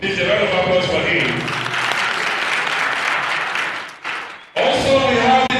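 Audience applause at a political party and civil society roundtable on the 2023 elections, loud sustained clapping that briefly dips, with a voice heard over it.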